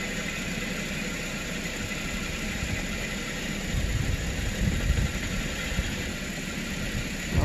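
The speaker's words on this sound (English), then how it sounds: "It's misfired and it's lagging" Running engine of a 2010 Toyota Corolla with a misfire, a steady close idle rumble that roughens and swells midway, no speech.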